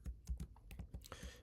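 Typing on a computer keyboard, a short run of close, crisp key presses in an irregular rhythm, heard alone without talk.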